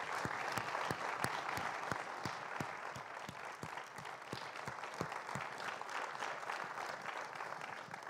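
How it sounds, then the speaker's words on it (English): Audience applause at a spring school music festival, a steady dense wash of clapping with a few sharper individual claps standing out, sustained evenly throughout at moderate level. "I think a round of applause again"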